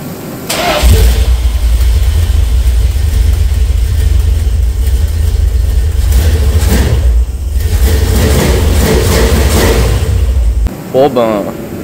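A classic Dodge Charger under restoration cranks and fires, then runs loud and steady close by for about ten seconds with a rough idle before cutting off, a short burst of noise following.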